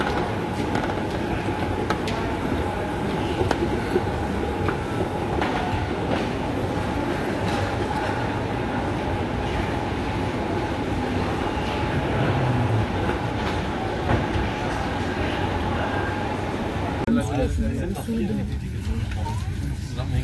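A train rumbles steadily at a station platform in Germany, with a continuous low clatter and people talking over it.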